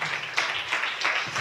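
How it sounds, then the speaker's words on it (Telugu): A church congregation at a Sunday service applauds together, a dense, loud wash of clapping that swells in several waves. "చప్పట్లో కూడా దేవుని స్తుతించండి"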